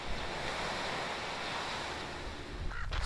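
Ocean surf washes steadily below the coastal cliffs of Mendocino, a broad continuous roar of breaking waves with gusts of wind buffeting the microphone throughout.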